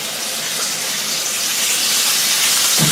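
Pork chops sizzle in an oiled pan with a dense, loud, steady hiss that swells slightly toward the end, close up with no talking.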